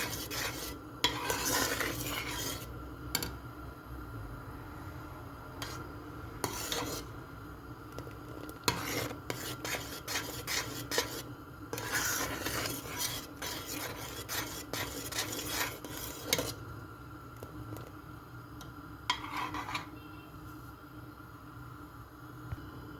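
Peach marmalade is stirred in a pot with a spoon: close, irregular scraping and clinking against the metal in bursts, with a faint sizzle underneath and quieter pauses between rounds of stirring.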